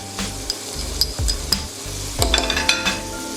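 Garlic and shallots sizzle in a hot pan while a utensil stirs and scrapes, giving a steady crackle with sharp clinks and scrapes close by and no talk.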